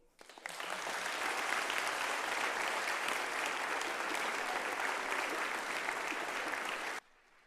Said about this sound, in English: Another round of applause for the last 3 speakers that we just had.